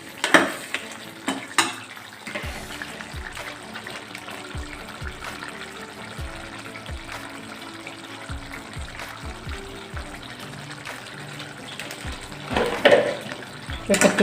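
A spatula stirs and scrapes chicken gravy, just dusted with pepper powder, in a pan, giving repeated low knocks under a soft sizzle, with louder scraping near the end.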